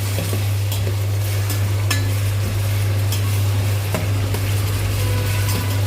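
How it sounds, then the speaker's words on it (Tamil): Tomatoes with salt sautéing in a pan, a steady sizzle over a constant low hum, broken by occasional scrapes and light clinks of a spoon against the pan. "உப்பு போட்டோம்னா தக்காளி நல்லா வதங்கிடும்"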